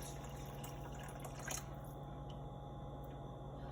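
Water poured into a pot for about three cups of white rice, a steady faint liquid trickle and splash running throughout over a constant low hum, with one brief louder splash midway.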